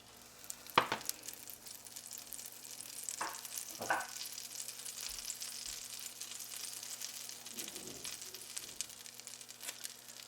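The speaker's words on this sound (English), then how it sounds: "4 to 5 tablespoons of olive oil or coconut oil, 1 big chunk of butter" Olive or coconut oil with a big chunk of butter sizzling in a pan, a steady faint frying hiss with a few brief clatters of stirring, no voices.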